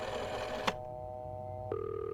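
Telephone ringing inside a horror video game, a steady electronic ring tone held for over a second, then switching abruptly to a different pitched tone, heard clearly over a low background hum.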